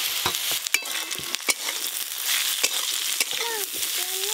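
Eggplant pieces hit hot oil in a pan already holding fried potatoes, a loud continuous sizzle with sharp clatters and scraping stirs throughout, no voices.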